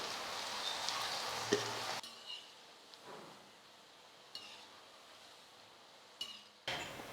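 Murukku dough pressed from rice-free flour being dropped into hot oil, with a loud, steady sizzle at first, then quieter bubbling broken by a few clinks of a utensil.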